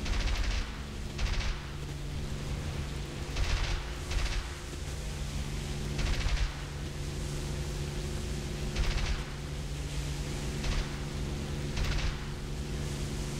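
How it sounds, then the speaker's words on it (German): Bursts of rapid automatic gunfire from a Russian machine gun on an I-15bis biplane in War Thunder recur every second or two over a constant noisy rumble. "ich habe eine russische MG und die russischen MGs sind nicht besonders gut"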